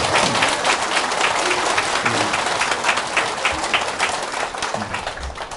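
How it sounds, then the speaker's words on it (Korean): A large lecture audience applauds in dense, sustained clapping that stays loud and steady throughout, then eases slightly toward the end. "박수, 박수."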